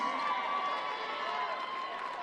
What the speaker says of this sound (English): Ladies and gentlemen, again, a big round of applause for the Titans